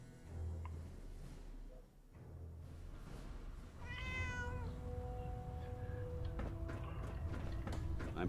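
A cat meowing in Fallout 4, one clear drawn-out meow near the middle, rising then falling, over a low steady background hum, with softer tonal sounds following.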